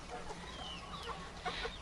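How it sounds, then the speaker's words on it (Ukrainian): Cochin chickens and a young rooster cluck softly nearby in a poultry yard, a few short low clucks and murmurs over a steady background, with a slightly louder call near the end. "Такі чуватий півник є, ось кохінхіни."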